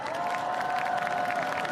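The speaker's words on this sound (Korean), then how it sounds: "여러분의 함성과 박수 부탁드리겠습니다" An outdoor ceremony crowd applauds and cheers for the Black Eagles aerobatic team's flyover, a steady wash of clapping and voices with a faint sustained tone running underneath.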